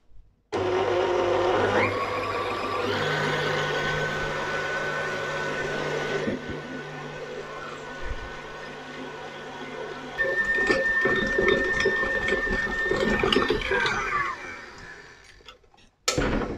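An electric mixing machine kneading low-carb pizza dough with gluten: a steady motor whir and rhythmic churning that runs for several seconds, then shifts to a busier, rattling pitch before cutting off.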